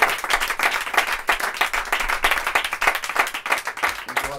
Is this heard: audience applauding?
yes